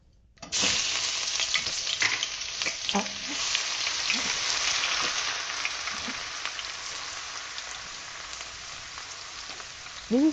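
Ginger paste hits hot oil in a pan and sizzles loudly in a steady, dense crackle that slowly fades, with a few stirring scrapes along the way.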